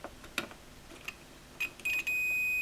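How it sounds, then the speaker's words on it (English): A multimeter set to continuity mode, used to check a Fender Blues Junior amplifier for shorts, gives a few short beeps as the probes tap together, then a steady sustained tone once contact holds. "So I have the meter set to beep when I touch the probes together."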